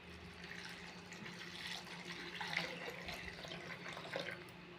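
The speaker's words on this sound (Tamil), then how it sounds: "முக்கால் சொம்பு தண்ணி ஊற்றிட்டேன்." Water pouring from a small pot into flour for a porridge batter, a steady soft splashing trickle, close and quiet, with no voices.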